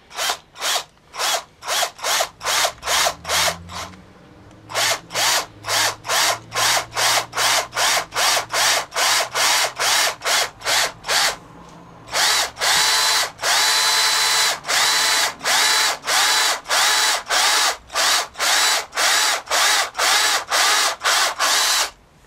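A spurred bit countersinks a half-inch hole by hand, giving rapid repeated ratcheting strokes, each a short crisp burst in a steady rhythm, with a brief pause early on and then quicker, louder strokes close up.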